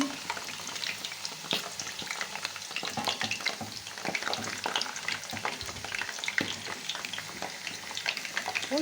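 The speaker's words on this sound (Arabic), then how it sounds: "هنبتدي بقى نقلب البطاطس على الناحيه التانيه بالشكل ده اهو." Potatoes fry in hot oil in a pan, a steady close sizzle and crackle with scattered scrapes and clicks as the pieces are turned over, with no talking.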